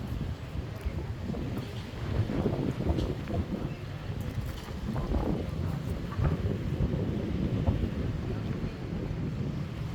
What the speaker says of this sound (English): It also seems quite breezy as well on Altea.